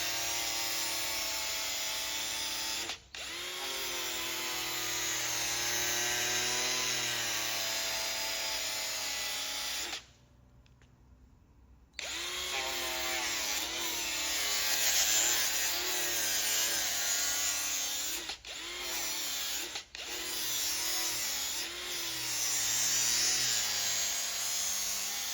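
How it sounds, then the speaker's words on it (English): Aluminum diamond cut alloy wheel with damaged, curb-rashed surface being sanded with 180 grit, a steady continuous abrasive whir running loud and close for long stretches, broken by a few brief pauses. "Start by sanding the damaged area with 180 piso grit."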